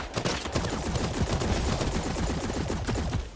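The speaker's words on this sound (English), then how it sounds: "Ooh, somebody shooting at me." Gunfire in the video game Hawked, a dense, continuous rattle of rapid shots sustained at steady loudness for the whole span, with no talking.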